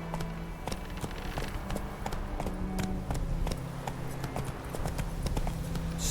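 A horse gallops in The Witcher 3, its hooves clip-clopping in a quick, steady rhythm over a continuous outdoor backdrop.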